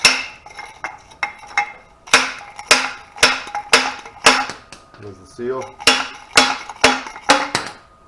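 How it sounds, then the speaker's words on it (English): A length of pipe, a Goldwing fork tube, is slammed like a slide hammer to knock out a Honda ATV's left rear wheel bearing, giving loud, sharp metallic clanks in an uneven series, with a brief spoken comment midway. "I'm going to use it like a slide hammer."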